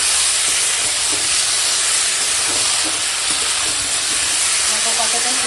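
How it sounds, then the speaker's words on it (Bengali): Taro is being fried and stirred with spices in a pan, making a loud, steady sizzle and hiss that runs unbroken throughout. "এখন ভালো করে একটু মশলার সঙ্গে সব কষিয়ে নেবো।"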